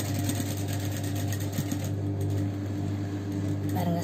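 A sewing machine stitches a kids' balloon frock, its steady motor hum and needle drone running continuously close by, with a faint tick or two near the end.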